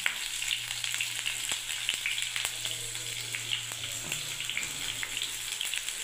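Green chilies and a generous amount of black cumin (kalo jeere) crackle and sizzle in hot oil, a steady close frying hiss with scattered small pops throughout and no talking.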